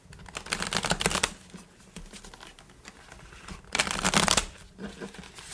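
Tarot cards are shuffled up close in a cramped space, crisp riffling bursts of papery clicks, a loud flurry at the start, softer shuffling in the middle, then another strong riffle and a brief final one.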